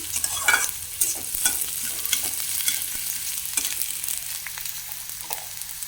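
Onions sizzle and crackle in a hot pan while a utensil stirs and scrapes, steady and fairly quiet with no talking.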